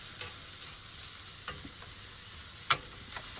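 Onions lightly sautéing in a fry pan, a soft, fairly quiet sizzle with occasional faint ticks and one sharper clink of a utensil, no voices.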